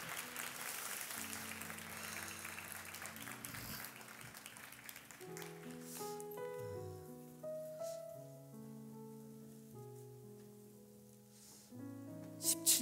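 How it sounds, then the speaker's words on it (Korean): A church congregation at a middle-school worship service applauds steadily over the first half while organ or keyboard music rings out, the clapping thinning as sustained musical tones take over. "큰 박수로 한 번 더 축복해 주시기 바랍니다."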